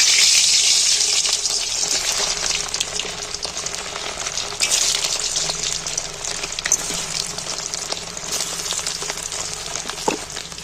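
Whole potatoes fry in oil that has been heated quite hot, giving a loud, dense and continuous sizzle with fine bubbling crackle and no talk.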